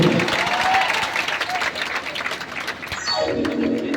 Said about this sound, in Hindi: एक बार अपने संस्कारों के लिए जोरदार ताली हो।